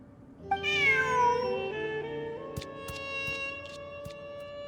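A cat in the video game Genshin Impact lets out a clear, drawn-out meow up close, with bright game music chiming along behind it.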